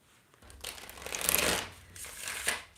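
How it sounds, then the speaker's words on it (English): A deck of tarot cards is shuffled in two quick riffling bursts, close and crisp, with a short pause between them and no voice. "Last shuffle."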